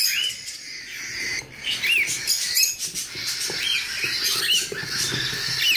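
Cockatiel chicks chirp and squeak in repeated high, rising calls with soft rustling and pattering between them, close and fairly loud.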